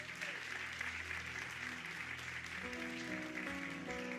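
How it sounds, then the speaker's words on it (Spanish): A church congregation claps through a sermon to honour the pastor's mother, the steady applause sitting under organ or keyboard music, fairly faint and distant. "Damos un fuerte aplauso a Dios por la vida de mi mami."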